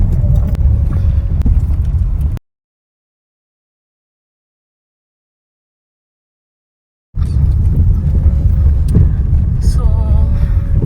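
A car drives over a rough unpaved road near Panglao, Bohol. The vehicle rumbles low and steady with bumps and rattles. The sound cuts out to silence partway through, then returns.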